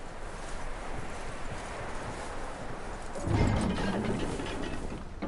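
Hoofbeats clatter steadily over a busy rumbling background in Red Dead Redemption 2, growing louder and heavier partway through as the horse draws close.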